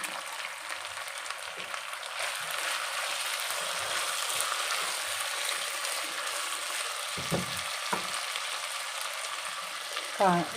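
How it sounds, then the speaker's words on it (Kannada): Tomatoes sizzling in an oiled pan while cooking tamarind poha, a steady bright hiss of frying that runs throughout, with occasional stirring scrapes and a voice speaking softly over it. "ನೋಡಿ ಇವಾಗ ಟೊಮೊಟೊ ಟೊಮೊಟೊ ಹಾಕ್ತಾಯಿದ್ದೀನಿ"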